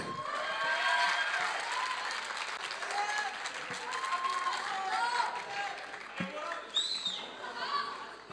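Audience applause for student debate teams at a school debating contest, a steady broadband clapping that fills the room for about eight seconds, with voices and cheering mixed in and a brief high whistle-like call near the end.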